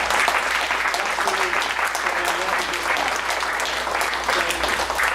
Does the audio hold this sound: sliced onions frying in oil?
no